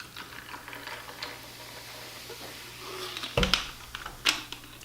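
Seltzer is poured into a rum mojito with lime, making soft fizzing and trickling that swells into a few louder splashes and pours toward the end.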